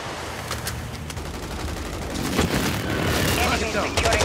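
Sustained automatic gunfire and explosive booms during a Call of Duty Modern Warfare 3 multiplayer match, a continuous rattling barrage growing heavier toward the end.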